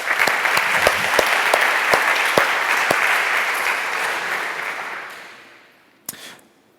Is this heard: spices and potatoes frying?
no